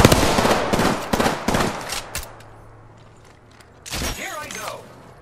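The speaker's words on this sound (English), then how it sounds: "I am taking fire, friends." Bursts of automatic gunfire in the video game Apex Legends ring out in rapid volleys at the start, then fall away to quiet before another short flurry of shots near the end.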